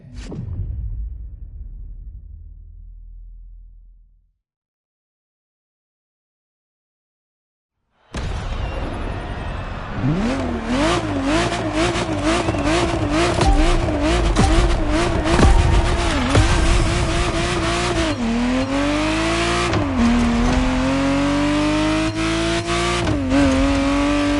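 Ferrari Testarossa in The Motor Fest racing game, silence after a brief opening rumble, then a loud engine bursting into repeated high revs and gear shifts, whining and climbing with tire squeals.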